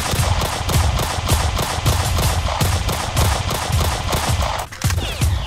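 Loud, rapid automatic gunfire in a Roblox hood roleplay game, dense repeated bursts of shots that continue almost without pause.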